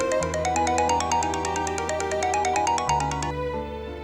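A phone ringtone for an incoming call plays loudly and steadily, a repeating electronic melody over a sustained tone that shifts pitch near the end.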